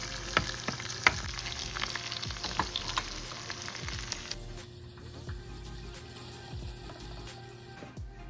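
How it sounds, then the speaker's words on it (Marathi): Food roasting in hot ghee in a home kitchen, a steady close sizzle with scattered spoon taps and stirring scrapes, quieting a little midway, with no talking. "हे छान गरम करून घेते इथे, म्हणजे तुपात भाजून घेते"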